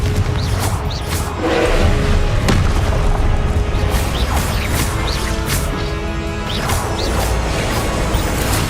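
Repeated fiery explosions from the Confringo spell in the Hogwarts Legacy video game boom and crash loudly in quick succession over a dense, continuous game soundscape, with whooshing bursts throughout.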